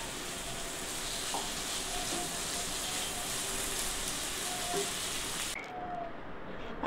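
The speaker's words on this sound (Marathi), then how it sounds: "थोडासा गॅस मोठा करते. 1-2 मिनिटाला परतून घेऊया." Dhaba-style masala okra fries steadily in a pan over a raised gas flame. The loud, even sizzle goes on without a break, then drops off sharply near the end.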